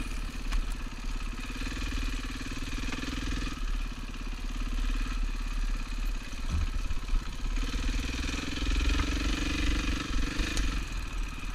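A motorcycle engine runs on a trail ride at Beaver Creek, a moderately loud, steady mechanical rumble with light clatter and small swells in revs throughout.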